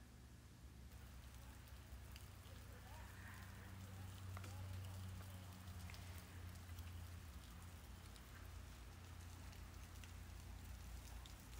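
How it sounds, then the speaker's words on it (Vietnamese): Small waterfalls spilling down a rock cliff near a cave, a continuous even rush of water heard steadily throughout at a moderate distance. "Đoạn này mình để các bạn nghe tiếng nước chảy nè."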